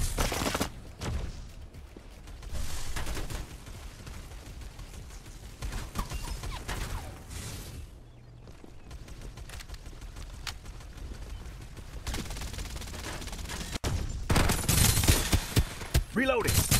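Artillery fire in the battle royale video game Farlight 84, a dense series of rapid blasts and gunfire bursts that comes in waves, loudest toward the start and end.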